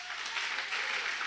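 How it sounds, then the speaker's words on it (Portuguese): A church congregation applauding during a Portuguese worship service, a soft, even patter of clapping that sounds somewhat distant and fairly quiet, with no talk over it. "Aplauda bem forte ao Senhor."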